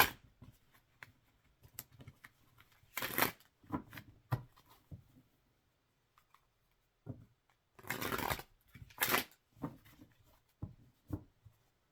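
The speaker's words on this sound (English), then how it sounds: "Fond of saying that not every shuffle is perfect." Tarot cards are shuffled in quiet bursts: soft riffling and flicking sounds, with two longer riffles near the middle and end, separated by short pauses and light handling taps, close to the microphone with no talking.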